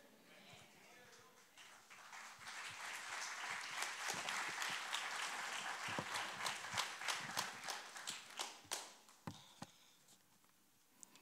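A church congregation at a Good Friday service applauds loudly, the dense clapping swelling after a faint start and breaking into scattered louder claps near the end, with a few voices mixed in.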